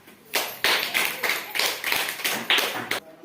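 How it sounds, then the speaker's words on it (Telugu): A small group claps for a student during a classroom activity session, a few loose bursts of hand claps in uneven rhythm, close and fairly loud. "ఓకే. Very good. క్లాప్స్."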